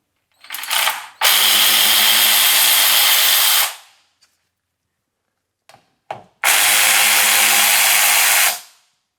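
An impact-style power tool spins off two 12 mm caliper bracket bolts on a Chevrolet Colorado during a driver-side wheel hub job, making two loud sustained whirring bursts of a few seconds each, separated by a short quiet gap.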